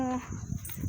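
A puppy gives a short, high, whining yelp at the start, followed by softer, faint sounds. The whole sound lasts under a second, against a quiet indoor background.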